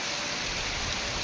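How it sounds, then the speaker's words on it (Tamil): Heavy rain pours down in Kanyakumari district with water running along flooded roads, a steady, even hiss of downpour that is fairly faint and uninterrupted. "மழை பாருங்கள், நினச்சி பார்க்க முடியாத அளவுக்கு நல்ல மழை."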